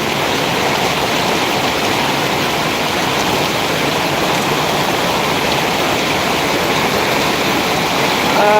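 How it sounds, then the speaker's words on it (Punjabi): Heavy rain falls outside a tent, a loud, unbroken rushing hiss like a downpour close by, steady from start to finish. "ਦੇਖੋ ਫਿਰ ਕਿਦਾਂ ਮੀਂਹ ਪੈ ਰਿਹਾ"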